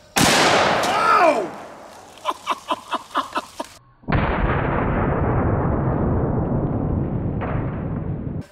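A .460 revolver fired at a can of pork and beans outdoors: one huge booming blast, a quick series of rhythmic echoing pops, then a second heavy roaring blast that slowly fades, with a brief exclamation from a person.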